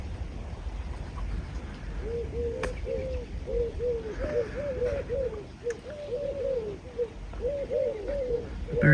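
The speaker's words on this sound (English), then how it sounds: "Birds seem to like the sunflowers." Pigeons or doves coo in a steady run of soft repeated calls outdoors near sunflowers at a cottage, moderately close over a low background hum.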